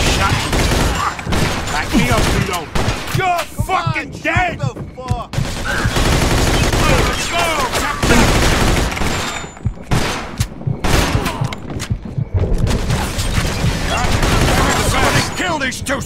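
Gunfire in the Mafia II game: bursts of automatic fire and repeated loud shots in rapid clusters, close and punchy, with voices shouting between the volleys.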